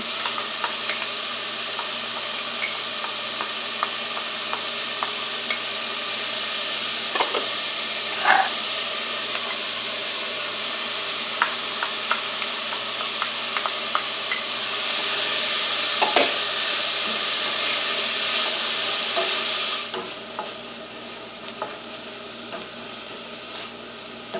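Onions, carrots and celery sizzle steadily in a pan for a demi-glace, a continuous bright frying hiss with occasional faint clicks and stirring knocks, swelling briefly louder before easing back.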